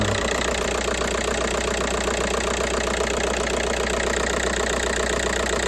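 A Volkswagen 1.9 TDI diesel engine idling, with a steady, loud, close mechanical clatter and rhythmic knock holding an even pace throughout, heard alone without speech.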